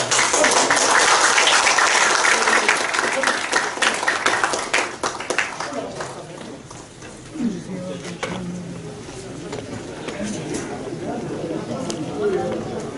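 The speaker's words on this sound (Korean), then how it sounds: "박수 한번 주세요" A church assembly audience applauds loudly at first, then the clapping thins and fades into scattered claps and murmuring voices.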